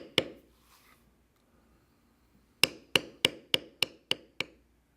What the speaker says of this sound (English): Now I'm using one of the smaller bevelers to bevel these